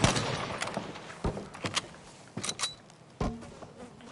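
Gunfire in Battlefield V with rapid fire switched on: a few scattered bursts of sharp shots stand out over a buzzing in-game background, moderately loud and with short gaps between them.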